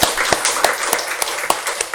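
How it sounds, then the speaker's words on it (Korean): Worshippers in a church clap together to give glory to God, a series of sharp, fairly loud claps at an irregular rhythm rising over a soft roomy background, with no one speaking. "우리 박수로 하나님께 영광 돌리겠습니다"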